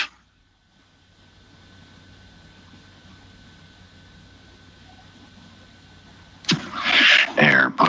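A car engine fitted with a Whipple supercharger fires up after several seconds of quiet idle hum, then roars loud and close with a harsh whining burst that runs to the end.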